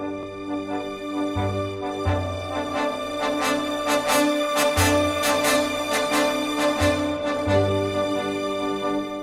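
The opening of a song plays steadily as recorded music, a sustained, harmonically rich accompaniment with a recurring low pulse, heard alone for several seconds with no voices over it.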